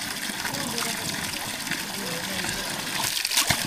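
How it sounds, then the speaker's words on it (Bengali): Cold spring water flows from a hillside in the Srimangal tea country, a steady splashing rush close by, with people talking over it. "অটো পানি বের হয়"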